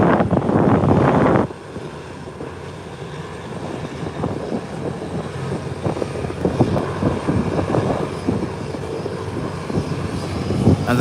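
A Beechcraft 1900 twin-turboprop on landing, starting with a loud roaring rush that cuts off sharply, then a sustained engine drone and rumble at moderate distance, with wind buffeting and faint talk underneath.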